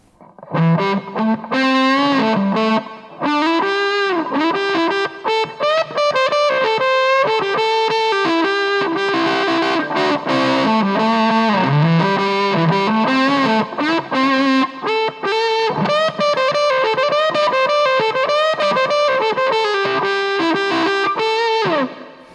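Fuzzy distorted electric guitar through an Electro-Harmonix Holy Stain pedal with reverb, playing a long, continuous melodic passage with sustained, saturated tones that blur together.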